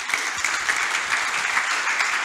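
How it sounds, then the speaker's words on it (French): A church congregation claps together, a steady dense wash of applause that carries on throughout with no pause, full and fairly loud. "Acclame le Seigneur."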